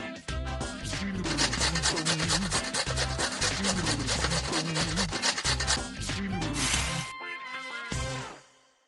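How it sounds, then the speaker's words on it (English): An ingredient is grated in a Masha and the Bear cooking video game, a steady rapid rasping scrape running loud and continuous over cheerful game music before stopping near the end. "We need to grate this."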